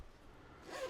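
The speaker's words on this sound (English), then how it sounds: "So that's a nice looking case. Zipper pull." A zipper pull slides open on a headphone carrying case for Cambridge Audio Melomania P100 headphones. A single short, soft zip sound swells at the end against quiet room tone.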